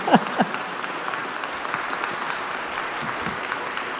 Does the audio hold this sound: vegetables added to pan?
no